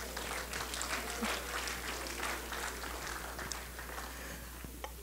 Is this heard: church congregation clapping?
yes